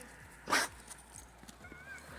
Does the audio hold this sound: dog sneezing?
yes